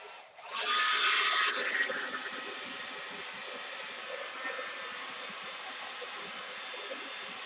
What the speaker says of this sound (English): I think if I try it a bit with the hair dryer.